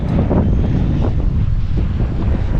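Strong wind gusts hard against the microphone on a warm day in Miami, a loud continuous roar with faint surf-like wash underneath and no talking.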